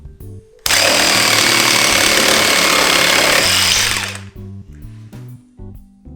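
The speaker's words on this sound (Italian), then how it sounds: "Questo è il taglio veloce ma molto sbavato." A Ryobi R18JS cordless jigsaw at maximum orbital setting drives an aggressive fast-cutting blade through a workpiece, starting abruptly and buzzing loud and steady for about three seconds before winding down to an idle whir.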